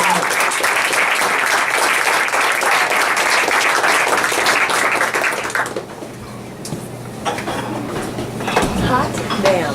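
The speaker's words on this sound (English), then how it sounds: "But another round of applause for Jessica" Loud, dense applause from an audience at a 2018 MFA showcase reading fills the first half, then thins into scattered claps and murmuring voices.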